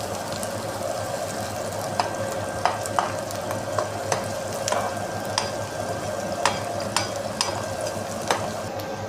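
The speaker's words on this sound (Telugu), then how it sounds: "ఇది బాగా కొంచెం లైట్గా బ్రౌన్ కలర్ వచ్చేంత వరకు వేయించుకోవాలి." Food fries steadily in a pan with a constant hiss and sizzle while a spoon stirs it in light, periodic scraping clicks, all fairly close with no talking.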